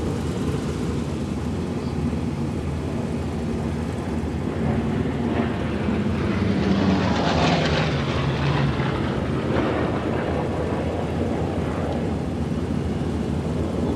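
A Seafire, a single-seat, single-engine naval version of the Spitfire, flies at the Duxford Flying Legends airshow in 2010. Its engine drone builds to a loud pass around the middle, then fades into a distant rumble.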